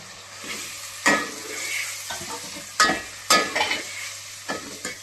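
Tomatoes frying with onions for a chicken masala, a quiet sizzle punctuated by several sharp scraping stir strokes against the pan at irregular intervals, close by with no speech.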